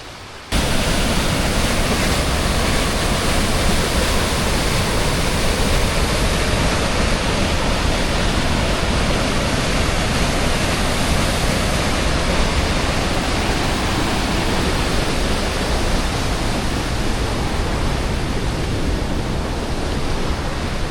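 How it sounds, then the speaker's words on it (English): A waterfall in a forest pours in a steady, dense broadband rush, loud and close, continuing unbroken for the whole stretch with no voices. "That's the waterfall"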